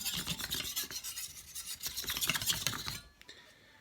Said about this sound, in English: We're going to start off with a 600 grit stone, and this is how we do it.